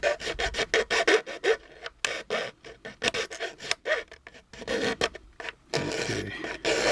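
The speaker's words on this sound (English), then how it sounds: "I try this coarser file" Coarse file rasping back and forth across a resin model kit of a 1959 Cadillac Miller Meteor hearse, a rapid series of close, loud scraping strokes with short pauses, no talking.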